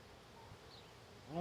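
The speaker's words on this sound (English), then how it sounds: "Very nice swarm of bees." A honey bee swarm hums softly in a low, continuous drone, faint and steady throughout, with a louder rise building at the very end.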